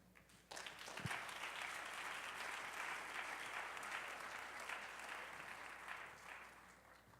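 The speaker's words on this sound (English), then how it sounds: "can we please give a round of applause?" A large audience breaks into sustained applause at a Dr. Martin Luther King Jr. Day celebration, starting abruptly after a short quiet moment, loud and dense for several seconds before tapering slightly.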